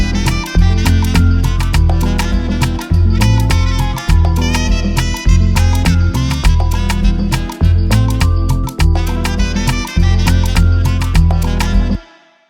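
Jazzy, tribal Afrobeat groove with saxophone over pounding tribal drums and layered percussion, a loud, steady looping rhythm with a strong low end, punctuated by brief drops before stopping abruptly at the end.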